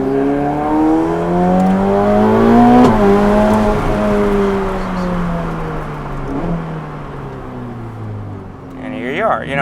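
A Ferrari Pista sports car on the road accelerates hard, its engine note climbing steadily through shifts around three and six seconds, loud and close from inside the car.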